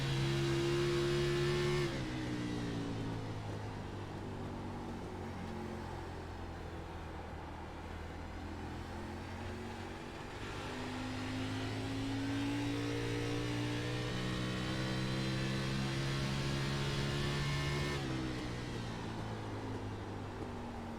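A stock race car engine drones loudly through a lap of New Hampshire in a Busch Series racing game. The pitch holds, dips and climbs again across gear changes, staying close and constant throughout.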